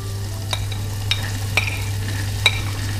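Onions sautéing in a pan make a steady, moderate sizzle under a constant low hum, broken by a few crisp spatula taps spaced about half a second apart.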